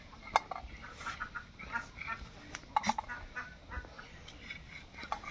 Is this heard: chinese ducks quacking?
yes